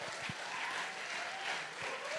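Church congregation at a harvest festival service clapping in praise, a soft, steady patter of many hands heard from a distance, without talk.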